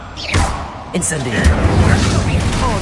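Incendio fire spell from the Hogwarts Legacy video game, a thumping burst followed by a whooshing, crackling flare of fire, with a voice speaking over the loud combat effects.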